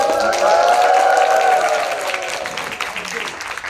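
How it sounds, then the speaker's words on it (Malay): Audience members at a leadership class clap for a speaker, a hissy spread of applause mixed with a sustained voice or cheer that fades as the clapping tapers off. "tepuk tangan untuk dia"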